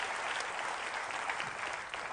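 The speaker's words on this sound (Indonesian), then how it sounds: "Sekali lagi tepuk tangan yang paling meriah buat Yesus Tuhan kita" A church congregation applauds at a worship service, dense steady clapping from a crowd that holds even for a couple of seconds without letup.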